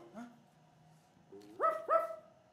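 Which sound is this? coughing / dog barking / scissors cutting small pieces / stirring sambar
dog barking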